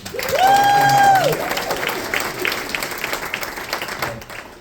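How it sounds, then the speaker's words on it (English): A crowd at a live storytelling show claps in a loud, sustained round, with a brief tonal whine near the start and the applause tapering slightly toward the end. "So one more round of applause."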